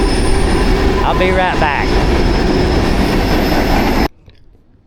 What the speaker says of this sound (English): Okay, train's gone.